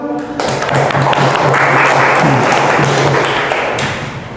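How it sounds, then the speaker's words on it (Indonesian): Applause in a classroom for a student group after their presentation: a dense, steady clatter of many hands clapping close by, holding at full strength for several seconds before easing slightly, with a faint voice underneath. "Beri aplaus kepada kelompok 1"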